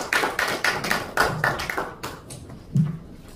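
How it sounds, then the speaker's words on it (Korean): Audience at a church memorial service and theology seminar clapping, a brief burst of applause from a small crowd with a few irregular claps fading out, moderately close. "박수 한번 쳐주세요"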